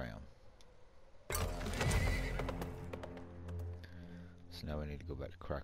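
A horse in the video game Weird West neighs loudly and whinnies at length, with clip-clopping hooves underneath, close and prominent after a quiet lead-in.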